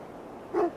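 A single short dog bark or yip from Beonton, a dog in Assassin's Creed Valhalla, rising briefly over quiet game ambience near the end.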